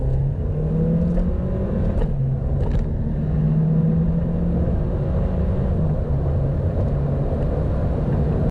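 A Seat Leon FR hatchback accelerates hard in a 30 to 70 mph sprint, heard from inside the cabin. Engine tones climb steadily as it pulls, with short dips at the gear changes, over a constant loud road rumble.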